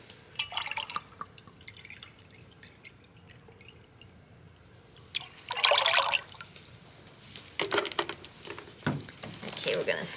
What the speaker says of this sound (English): Then you're going to put your pineapple juice in.